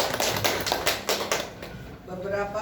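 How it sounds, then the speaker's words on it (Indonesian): Brief applause from a school talk-show audience for the host, scattered claps that fade after a second or so as a voice begins speaking. "Tepuk tangan dulu"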